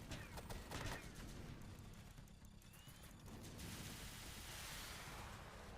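Turrets firing in the mech video game Gigantes Ex Machina, with rapid bursts of gunfire clustered early and then a steady rush of continued shooting and explosions, faint in level.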